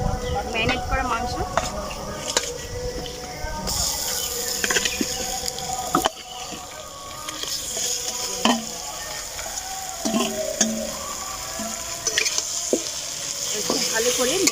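Marinated desi chicken frying and being stirred in a pan with garlic, giving a steady sizzle broken by scraping and clinking utensil knocks, with outdoor insect-like background and some talking.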